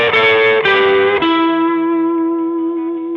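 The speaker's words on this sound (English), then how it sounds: "you can actually get this whole sort of scale running down like this" Distorted electric guitar plays rock 'n' roll double stops stepping downward in three quick moves, the last one ringing out and sustaining with effects.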